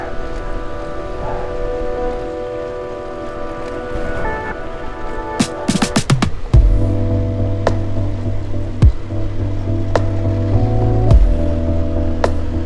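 A motorbike with newly fitted springs rides a countryside road in Spain, its steady engine hum and wind rush running throughout, with a lower engine drone settling in partway and a few sharp knocks and clicks along the way.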